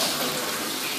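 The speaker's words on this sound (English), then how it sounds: "I got a call from a water burst here. It's coming from the ceilings" Water gushes steadily from burst frozen pipes pouring through a house ceiling, a dense, loud, close rushing splash with no pause.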